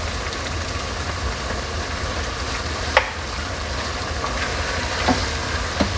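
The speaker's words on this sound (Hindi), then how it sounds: "इसको भूनेंगे, चिकन का कलर चेंज होगा तो फिर दूसरे मसाले डालेंगे" Chicken pieces fry in a pan with two spoons of ginger garlic paste for chicken makhni, giving a steady close sizzle throughout with a few brief stirring scrapes.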